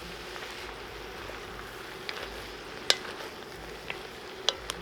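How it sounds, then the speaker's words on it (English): Sausage and mushrooms frying in a soup pot, a continuous close sizzle with occasional sharp spatter pops and light stirring clicks, steady and moderate in level, no one talking. "now I'm going to go ahead and add in our sausage and mushrooms"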